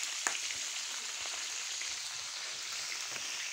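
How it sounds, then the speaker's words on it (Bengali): Fish frying in a pan on a home kitchen stove, a steady high sizzle that holds evenly for the whole stretch with a few faint pops and clicks, no voices over it. "এখানে মাছ ভাজছি, আর এদিকে মাছ অনেকটা ভাজাও হয়ে গেছে।"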